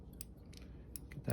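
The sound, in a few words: scissors cutting off frayed fabric edge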